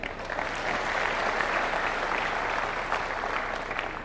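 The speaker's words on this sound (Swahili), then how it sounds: "Hiyo makofi haitoshi." Steady, dense applause from a large audience at a Kenyan official gathering, sustained evenly throughout without a break, clapping filling the space with no distinct voices.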